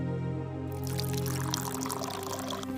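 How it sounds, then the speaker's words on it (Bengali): Water poured into medicine in a cartoon, a steady liquid pour with a rising gurgling pitch as the vessel fills, close and without talk. "আমি এর সাথে অনেক জল মিশিয়ে দেব"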